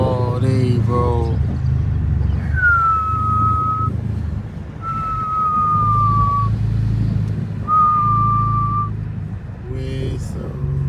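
A high, steady whistle rises three times in long drawn tones from a 2012 Dodge Charger R/T running with its exhaust and resonator deleted, heard over low engine and road rumble with occasional voices.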